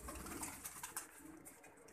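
A Sialkoti pigeon with pearl-coloured eyes coos softly in a couple of faint, low murmurs against a hissy background, very close and brief.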